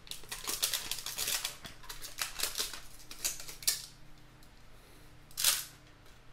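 Stainless steel blades in foil heat-treat pouches being cut open, with a run of crisp snipping and crinkling clicks at close range, alone and fairly quiet, then a brief louder rustle near the end.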